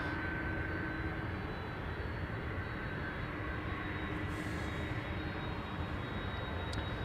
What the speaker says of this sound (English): KLM flight 539 to Kigali, A330-200.